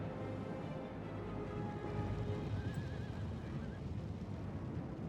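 Horses neigh and whinny in a battle of the strategy game Third Age Total War Reforged, a wavering high call rising above a dense din of hooves and battle noise.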